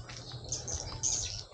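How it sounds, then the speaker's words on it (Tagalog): Swiftlets chirping at a swiftlet farm, a dense flurry of high, rapid tweets from many birds overlapping close by, continuous and alone for a short burst. "Ito na yung ibon-ibon namin, guys."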